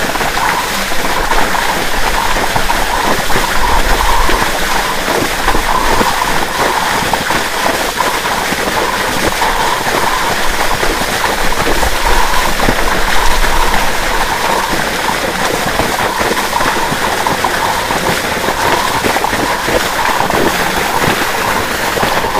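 Water gushing from a pipe fed by a 5 HP solar-powered pump motor, a loud, continuous splashing rush that stays even and close throughout.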